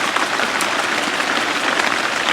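Steady rain falls at a riverside fishing camp on the Don during an overnight fishing trip, a dense, even hiss of drops without a break and with no voices.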